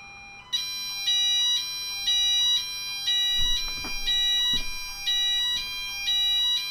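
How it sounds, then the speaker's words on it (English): A household fire alarm blares in loud, repeating high-pitched beeps in a steady on-off pattern, with a few dull knocks and a brief thump underneath. "The fire alarm has gently just gone off"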